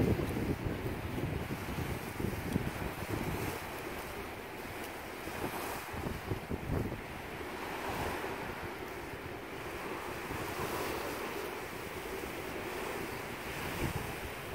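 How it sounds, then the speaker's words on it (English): Choppy water at the Tacoma waterfront washes steadily, a continuous broadband wash of waves mixed with gusty wind buffeting the microphone, fairly faint and with no talking. "Water looks a little choppy today."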